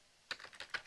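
Quick keystrokes tap on a computer keyboard during a live coding stream, a short burst of soft close clicks in an irregular rhythm.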